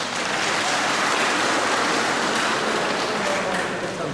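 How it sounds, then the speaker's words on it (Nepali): Dense, even applause from a crowd at a relief distribution and workers' blood donation event in Nepal, loud and steady throughout with no voices standing out. "एकपल्ट ताली हेर्नुहोस् त"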